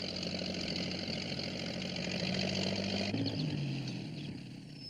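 A cartoon tractor engine runs steadily at a low idle-like chug, a continuous near mechanical drone with a pitch shift partway through and no talk over it.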